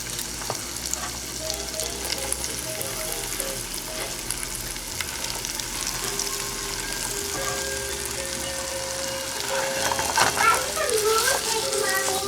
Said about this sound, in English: we're going to add the potatoes into the oil now